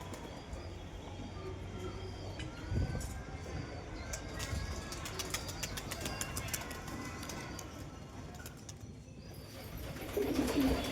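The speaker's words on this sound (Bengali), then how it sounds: "পায়রাগুলো এখন ঘোরাঘুরি করছে" Domestic pigeons coo softly over a steady outdoor background hum, with scattered chirps and a brief louder burst near the end.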